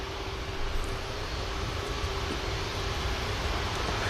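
An aircraft departs Manchester Airport, its engines making a loud, steady broadband roar with a faint sustained tone, constant from start to finish and uninterrupted by speech.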